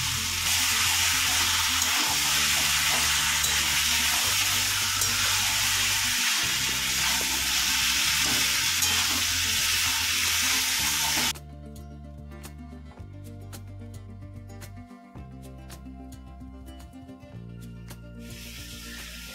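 Mutton stirred with papaya in a pan, a loud close sizzle with rhythmic scraping strokes that drops abruptly to quieter stirring and clinks partway through, over steady background music.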